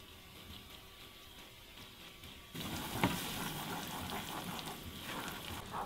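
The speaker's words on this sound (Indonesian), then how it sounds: "aku mau bikin karamel teman-teman ini gula pasir 150 gram" Granulated sugar, 150 grams, melting unstirred into caramel in a pan, giving a steady close sizzle that grows louder partway through, with faint crackling and no talking.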